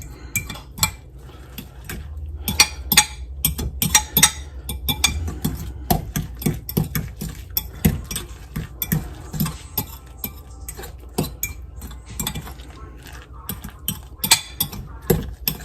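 A fork beating eggs in a bowl, rapid uneven metallic clicks and clinks against the dish, close and fairly loud, with no talk.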